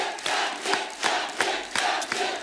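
Studio audience at The Kapil Sharma Show applauding and cheering for Ranveer Singh's entrance, a loud continuous crowd roar punctuated by regular bursts of clapping.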